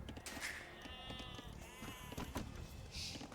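Sheep bleating in the real-time strategy game Age of Empires 2, a few short nasal bleats overlapping amid game sound effects, moderately loud and clear.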